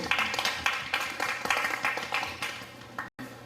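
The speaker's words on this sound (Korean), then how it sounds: "박수로 이렇게 나와주시죠." Attendees at a community self-governance meeting clap to welcome a participant forward, heard as a moderate stretch of scattered, rhythmic hand claps in a room that stops abruptly near the end.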